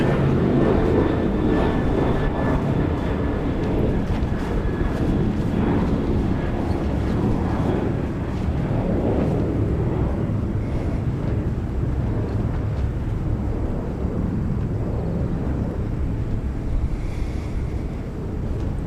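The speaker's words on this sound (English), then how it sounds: "And that E-Star jet on its way to Narita Airport in Tokyo, 737-800." A Boeing 737-800 jet airliner at Incheon Airport in Seoul, South Korea, makes a steady, broad roar that lasts the whole stretch. Wind buffets the microphone and no one speaks.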